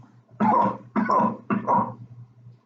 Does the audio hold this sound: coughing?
yes